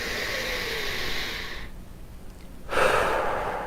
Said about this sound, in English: I haven't stopped and taken a deep breath.